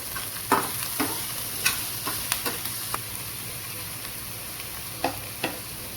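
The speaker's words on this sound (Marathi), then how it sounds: "तेल घालू. त्यामध्ये हिरवी मिरची, कांदा आणि शिमला मिरची घालून थोडं फ्राय करू." Green chili, onion and capsicum stir-frying in oil for cabbage Manchurian, a constant close sizzle punctuated by sharp spatula scrapes and clacks against the pan at irregular intervals, with no speech.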